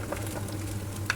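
Ghee sizzling in a pan while cooking paneer biryani, a steady close frying crackle with small pops, alone and without talk.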